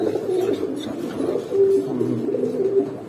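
A grizzle homer pigeon, a single new adult male, coos in soft, low repeated phrases close by, with faint background noise and no talking.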